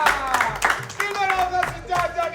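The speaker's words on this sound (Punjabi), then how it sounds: "ਤਾਲੀਆਂ" A studio audience at a Tea Time game show claps in short, lively bursts, loudest near the start, while a voice talks over the clapping.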